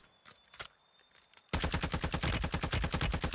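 Gunfire in the video game Warzone 2.0: after a couple of isolated shots, a loud rapid automatic burst runs steadily for about two seconds, close and dominant.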